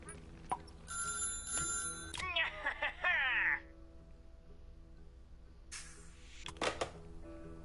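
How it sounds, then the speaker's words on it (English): A phone rings in the Little Big Workshop factory management game, with bright electronic ring tones in two short spells among other chimes and interface dings, and someone talking quietly underneath. "I'm curious what that phone call is all about."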